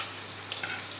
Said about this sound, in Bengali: আর এই যে আলু ভাজা হচ্ছে